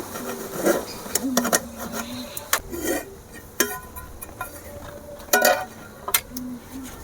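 A metal lid comes off a pot of chicken dum biryani with potatoes, bringing a few sharp clanks and scrapes spread across several seconds, with quiet rustling between them.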